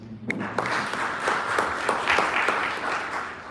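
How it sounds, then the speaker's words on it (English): A crowd at a launch event in Ethiopia claps in a steady, moderately loud round of applause lasting a few seconds, with scattered sharp individual claps standing out. "Guys, a round of applause"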